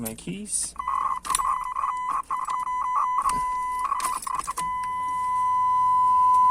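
A steady electronic warning buzzer from the dashboard of a Firebird Trans Am being wired up, sounding as a continuous tone for several seconds alongside clicks and handling noises, with someone talking over parts of it.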